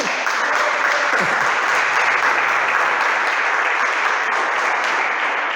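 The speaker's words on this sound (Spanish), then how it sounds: "Denle un aplauso a Dios, por favor." Dense, sustained applause from a large church congregation fills the space evenly from start to finish, a loud wash of many hands clapping with no pauses.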